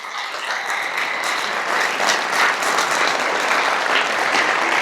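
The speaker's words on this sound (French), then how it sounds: "Applaudissez-la, s'il vous plaît." A comedy show hall audience applauds warmly, a dense and steady clapping that swells slightly and holds for several seconds with no talking over it.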